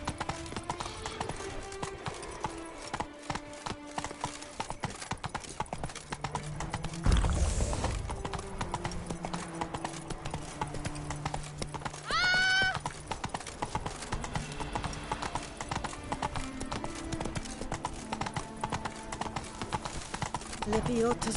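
In The Witcher video game, the horse Roach gallops with rapid, rhythmic hoofbeats that run steadily throughout, with a short whinny partway through, while voices talk over the action.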